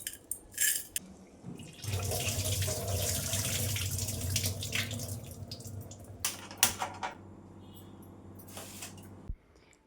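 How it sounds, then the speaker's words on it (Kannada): Running tap water over lentils being rinsed clean of grit in a kitchen sink, a steady splashing flow with brief clinks and drips at the start and end, no talking. "ಕ್ಲೀನಾಗಿ ಒಂದೆರಡು ಸರಿ ವಾಶ್ ಮಾಡ್ಕೊಂಡು."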